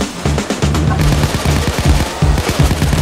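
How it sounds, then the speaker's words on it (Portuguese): Police gunfire in the video game Payday 2: rapid, loud bursts of automatic weapon shots fired in quick succession, dense and continuous, with several guns overlapping in a sustained fusillade. "Meu Deus, tiro policial aqui!"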